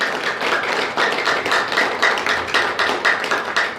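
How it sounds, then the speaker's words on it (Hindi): Audience clapping to welcome a speaker, a Patanjali Yoga Samiti district figure, at an indoor gathering: a steady, dense round of hand claps sustained throughout at moderate loudness, with no voices over it. "एक बार ताली अभिनंदन करेंगे"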